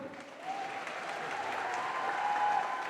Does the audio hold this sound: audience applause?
yes